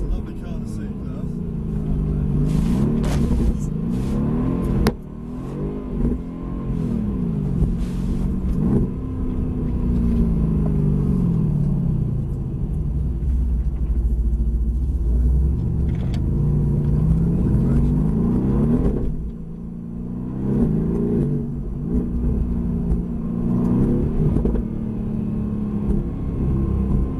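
Mercedes-AMG GT S driving slowly around a low-speed test track, a steady low engine rumble and road noise running throughout with brief rises in revs, while people talk inside the car.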